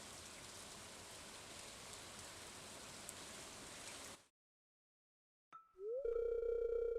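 Rain falling in the farming game Stardew Valley, a steady soft patter and hiss that cuts off abruptly into silence, followed by a rising tone and a sustained electronic hum.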